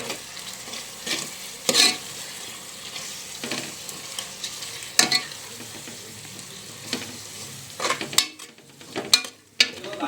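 Coriander powder being stirred into a frying pan with a spoon, with a steady sizzle of hot oil beneath repeated scraping strokes against the pan, close and fairly loud, with no talking.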